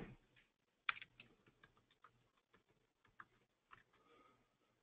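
Quiet keystrokes on a computer keyboard while entering a record into a software interface, irregular taps and clicks spaced out over several seconds with a few sharper strikes, heard alone and close.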